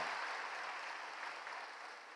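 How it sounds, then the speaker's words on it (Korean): A church congregation claps for the choir after a hymn at a Sunday service, a soft, even wash of many hands that slowly fades, heard at a distance. "우리 박수 한번 보내드리도록 하겠습니다"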